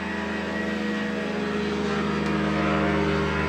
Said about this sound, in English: You're going to see all these really cool airplanes that fly really low to our neighborhood.